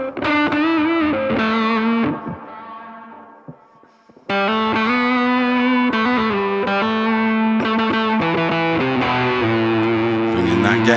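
Electric guitar run through a BOSS GT-1000 multi-effects unit with reverb and delay, guitar gain turned down to about 2, played as sustained chords and notes with trailing repeats, loud and continuous apart from a brief dip midway.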